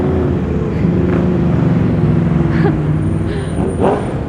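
Cars roll past on a busy town street in Winchester at peak commuting time, a continuous loud engine rumble with passing swells and the odd rev close by, no talk over it.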